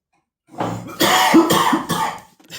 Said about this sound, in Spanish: Estamos aguantándote toser.